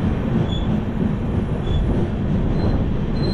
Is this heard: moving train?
yes